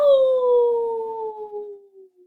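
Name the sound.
voices imitating a wolf howl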